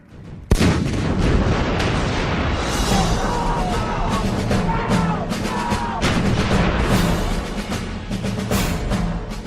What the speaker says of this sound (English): British and American troops began a massive artillery barrage onto the Iraqi positions in front of them